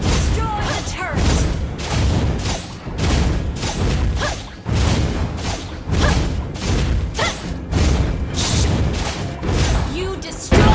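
A turret is destroyed during a Mobile Legends match, amid a dense run of loud booms, thuds and whooshing battle effects that pulse in repeated bursts.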